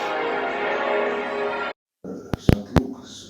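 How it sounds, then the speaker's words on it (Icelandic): Large church bells in the tower of St. James's Church, among the biggest in England, heard as a sustained ringing wash that cuts off, followed by a few sharp, loud strikes and knocks. "þetta er svona stærstu bjöllur í Englandi sem er í þessum kirkjuturni"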